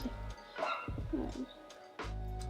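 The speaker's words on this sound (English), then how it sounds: "I don't know if you can hear my neighbor's barking dog" A neighbor's dog barks and yips a few times in short bursts, fairly faint and mixed with some whimpering, over a low background hum.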